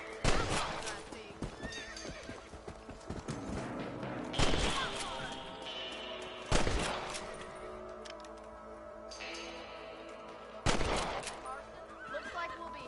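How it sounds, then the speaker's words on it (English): Rifle shots at rabbits ring out in the Red Dead Redemption western video game: three or four loud, sharp cracks spaced several seconds apart over horse hooves, whinnies and a busy outdoor game background. "Better at shooting rabbits than outlaws, I see."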